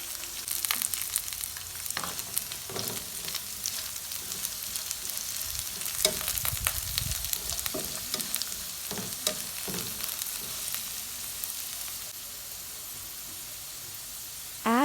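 Potatoes sautéing in a pan for a crispy aloo fry give a continuous close sizzle broken by scraping stirs and clattering toss sounds, which settle into a quieter hiss near the end.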